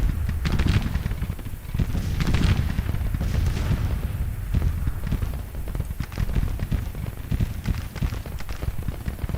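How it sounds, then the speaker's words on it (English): A Civil War artillery battery fires in Grand Tactician, its booms rolling over a dense, continuous din of distant battle noise with rumbling low thumps and scattered crackling shots. "Alright, my whole battery is firing now"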